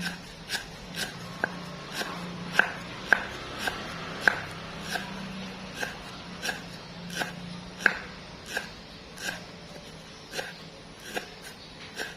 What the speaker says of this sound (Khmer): នេះយើងហាន់សរសៃតូចអញ្ចឹងណាបងប្អូនចា